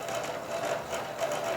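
A yarn ball winder spins steadily close by, producing a continuous mechanical whir with a faint rhythmic pulse as it winds a skein into a ball.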